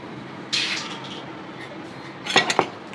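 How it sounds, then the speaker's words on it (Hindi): Macaroni being stirred in a metal pan, with a soft scrape followed later by a quick cluster of clinks from the utensil striking the pan, all faint against a quiet kitchen background. "अच्छी तरह से अपनी मैक्रोनी को मिक्स कर लेंगे।"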